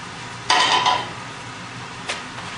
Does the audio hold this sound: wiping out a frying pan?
yes